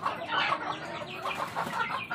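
Chickens on a small poultry farm cluck and squawk in a busy overlapping chorus, close and moderately loud, with no talk.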